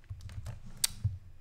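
Typing on a computer keyboard at a Linux desk, a few soft scattered key taps over a second and a half, close and quiet, one sharper click standing out.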